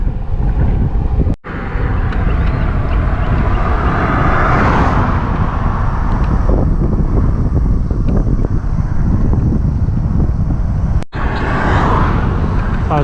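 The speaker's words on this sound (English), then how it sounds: "Super windy out here." Strong wind on a cycling road in Oaxaca, Mexico buffets the microphone in loud, continuous roaring gusts for the whole stretch, with low rumble throughout and no voices.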